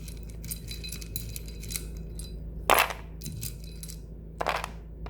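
Small letter tiles and charms are shuffled and rattled together for a divination reading, producing soft clicking clatter with two sharper bursts of clinking, quiet and close.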